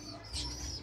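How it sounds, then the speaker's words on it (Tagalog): A pigeon gives a brief, soft coo, a single low murmur against quiet background with no speech. "Ito naman yung bird"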